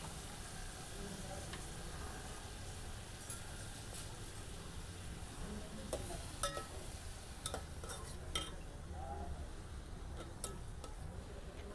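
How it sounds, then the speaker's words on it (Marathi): Chopped onion and two ripe tomatoes sauté in oil for a spicy green-pea curry gravy, giving a steady dense sizzle throughout with occasional light spoon-against-pan clinks. Faint background murmur sits under it. "तेलावरती हे छान असे परतून घ्यायचे आहेत कांदा आणि टोमॅटो"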